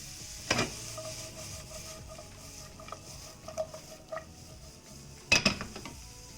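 Vegetables and noodles stir-fry in a pan over high heat, a low steady sizzle broken by a few sharp metallic clanks and tossing scrapes, the loudest near the start and the end.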